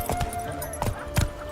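Horse hooves clip-clop in a few uneven, soft strikes on a road in The Witcher 3, set against a steady background bed of game ambience.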